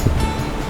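Sea waves washing onto the shore at a beach in Barangay Wawa and Bukana, Nasugbu, Batangas, a steady broad rush of surf with light wind, continuous and fairly loud with no voices.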